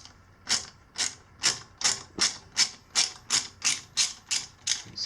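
A 13 mm ratchet wrench loosens a footpeg bolt, held with a lock washer and locking nut, on a Sur Ron Light Bee supermoto: a steady run of about a dozen crisp, evenly spaced ratcheting clicks, close and clear with no talking.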